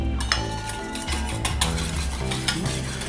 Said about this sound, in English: we're gonna take some balsamic, which we wanna whisk in slowly